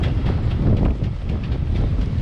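Steady, loud wind buffeting the microphone at sea near Papeete, a low rumbling roar that never lets up.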